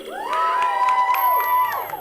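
A studio audience at a Halloween improv comedy show cheers and whoops loudly, with high, sustained shrieking voices rising together over a continuous crowd roar.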